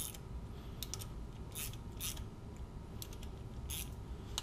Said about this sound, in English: We'll start tightening down these rails. Just being careful not to tighten any one bolt too far.